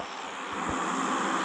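A steady, droning airplane engine from the offline mobile game PUBG Mobile hums continuously at an even level, a synthetic aircraft sound with no pauses.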